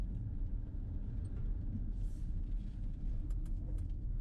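A 2021 Ford Mustang Mach-E GT, a heavy all-electric car, driving an autocross course, giving a steady, close, low rumble of road and motor noise with no talk.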